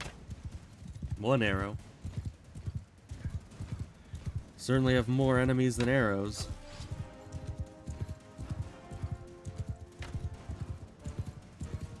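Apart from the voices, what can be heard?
horse hooves galloping in video game Mount and Blade II: Bannerlord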